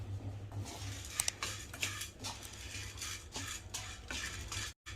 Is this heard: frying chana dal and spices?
yes